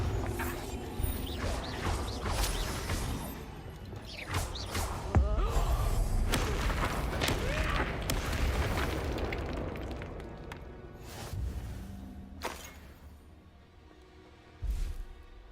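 Bombarda explosion spell in the video game Hogwarts Legacy, a sharp booming blast amid rumbling, clattering debris and mechanical noise, fading out before a second thudding impact near the end.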